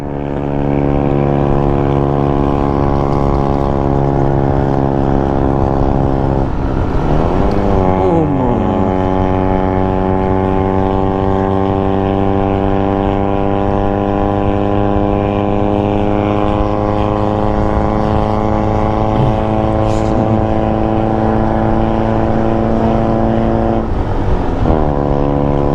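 A vehicle engine accelerates with a loud, steady harmonic drone whose pitch climbs, drops abruptly at two gear changes, then rises again, running nonstop for the whole stretch.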